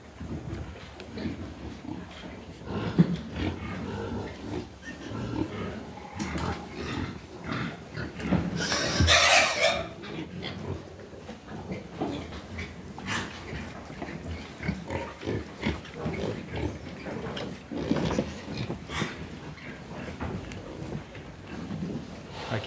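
Young pigs, the smallest around 20 days old, grunt and oink in a farm pen, with frequent close grunts and a louder squeal burst midway. People talk quietly in the background.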